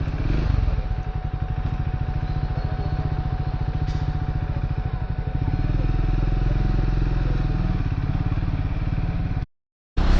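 A Triumph Scrambler 400 X motorcycle with about 8,200 km on it and a slightly rough-feeling engine runs steadily up close in traffic, a throbbing, even engine note that cuts out briefly near the end.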